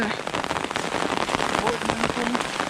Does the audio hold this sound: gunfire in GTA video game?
no